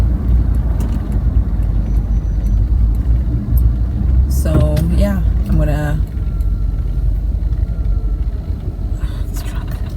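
Steady low road rumble of a car driving in Pasadena, heard from inside the cabin, continuous and close throughout, with someone talking over it.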